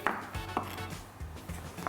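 A knife chops very dry prunes on a cutting board in a handful of irregular, fairly soft cuts, close by and quiet.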